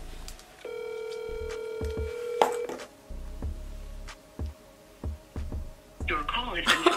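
An outgoing phone call rings through a speaker with a steady electronic ringback tone, followed by short beeps and clicks, close by, while a person talks.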